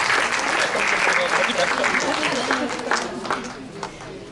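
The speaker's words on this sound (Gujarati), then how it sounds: "આપણે આ બધા જ વિજેતાઓને તાળીઓથી વધાવીશું." An audience at a senior citizens' forum gathering applauds the winners, with dense, sustained clapping that fills the room and slowly thins out toward the end, mixed with some crowd murmur.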